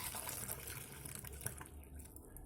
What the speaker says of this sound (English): We're going to pour equal amounts into our experiment cup